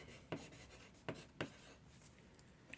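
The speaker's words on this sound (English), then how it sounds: "I'm going to write big maple." A pen writes on paper in three soft, quick scratching strokes. The strokes are faint and close, set against quiet room tone.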